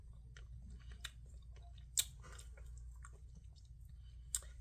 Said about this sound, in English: Something about this chicken is not chewing right.